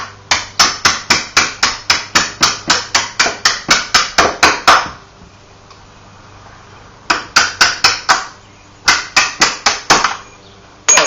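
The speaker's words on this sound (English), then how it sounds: "you need a drive punch and a hammer. And you can come in under the pins here on the hinge" Rapid, sharp metallic hammer taps on a drive punch driving up an entry door hinge pin, in quick bursts, a steady run of strikes, a pause, then two more short volleys, close and loud.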